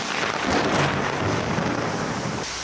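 Predawn thunderstorm over Chanchamayo with torrential rain: a dense, loud roar of downpour with a low rumble of thunder swelling near the middle before easing.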